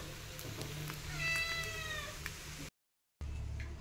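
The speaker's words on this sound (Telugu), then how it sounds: "మా పిల్లి చూడండి ఎలా గోల్ చేస్తుంది అసలు." A pet cat gives one clear, rising meow near the middle, set against a steady low household hum that briefly drops out to silence.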